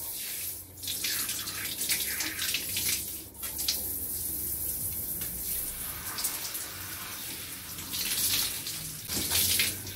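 Warm water runs steadily from a tap while dye is rinsed out of hair, a continuous splashing gush that shifts slightly as hands move through the stream, with no talk.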